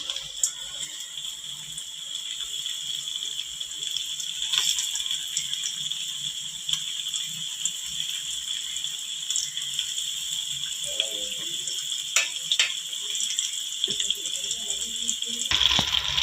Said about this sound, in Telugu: నూనె కాగాక ఇందాక మనం కలిపి పెట్టుకున్న పీసెస్ని డీప్ ఫ్రై చేసుకుందాం